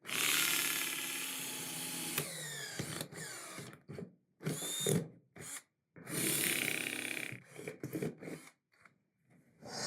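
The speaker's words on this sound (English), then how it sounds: "drill a couple of holes on this end" A power drill whirs in several bursts, starting and stopping repeatedly, close and loud as it bores holes in the end of a plastic container, with short silent gaps between.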